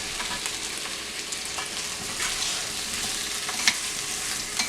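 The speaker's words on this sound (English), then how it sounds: "And saute them for about few minutes in medium flame." Fried potatoes sauteing with spices in a pan over a medium flame for a fish muitha dish, a steady close hiss of sizzling with occasional scrapes and clicks from stirring, no talking.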